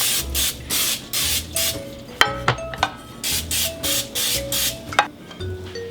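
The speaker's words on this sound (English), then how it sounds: "I'm going to spray my pans now with a little bit of non-stick cooking spray." Several short hissing bursts of non-stick cooking spray onto cake pans, close by and in steady succession, with a few light clinks of metal pans between sprays.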